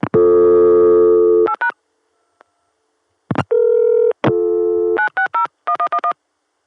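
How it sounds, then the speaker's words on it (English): Touch-tone digits 9, 6, 0 dialed on a 1981-era local access number of a corporate CCSA telephone network, clean in-band tone bursts around a steady dial tone, then a pause before further tones and multi-frequency signaling chirps as the call routes through. "let's dial 960 on my local access number and see how it goes through"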